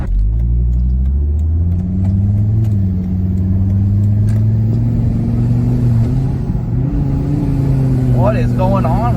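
A Volvo V70R wagon with a faulty-acting transmission accelerates hard, engine droning and rising in pitch through shifts, loud and close, with someone talking briefly near the end.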